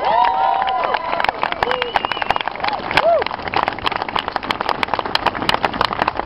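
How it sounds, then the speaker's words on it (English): Crowd at a pro-gun rally applauding veterans, a rapid crackle of many claps filling the space while a voice cuts in over the start. "Let's give them a round of applause."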